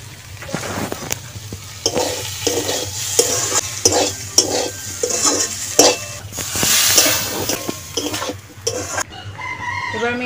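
A fried spice mix is stirred into mashed duck egg chokha in a pan, with rhythmic scraping strokes over a soft sizzle, close and clear; a rooster crows faintly in the background.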